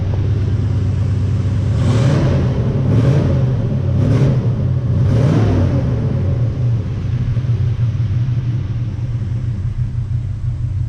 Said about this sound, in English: If I can rev it up here and give you guys some sound.